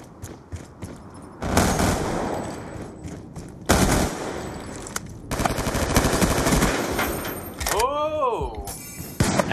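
Rapid gunfire in a first-person shooter video game, with loud bursts of shots that start and stop abruptly several times and are mixed with game effects. A voice speaks over the firing.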